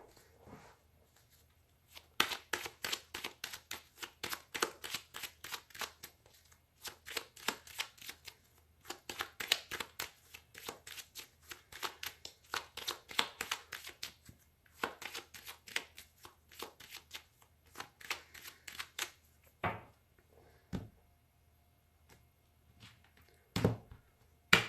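Tarot cards are shuffled by hand in quick bursts of crisp riffling and slapping, clear and close, with short pauses between runs and a few isolated taps near the end.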